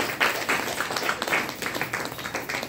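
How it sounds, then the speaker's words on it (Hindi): An audience at a DXN health gathering in Bhagwanpur claps in a brief burst of moderately loud, scattered applause. "एक बार डिएक्शन के लिए जोरदार ताली बजाइए।"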